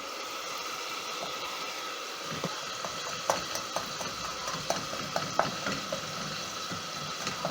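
Matoke stew with spices, paprika, cloves and stock cubes, stirred in a pot over a low steady sizzle, with a string of light spoon-against-pot clicks and scrapes growing more frequent over several seconds.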